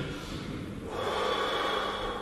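A person demonstrating doctor-style breathing as if for a stethoscope check: a sharp nasal intake followed by a long, loud, steady exhale, close up with no talking.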